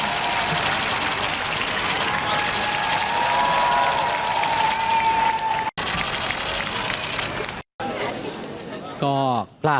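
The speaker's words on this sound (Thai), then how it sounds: "มีการตะโกนแล้วก็ปรบมือในคราวเดียวกันครับ" A large crowd outside Buckingham Palace shouts and claps together, a dense, continuous roar of voices and cheering with scattered applause and some engine rumble, breaking off briefly near the end.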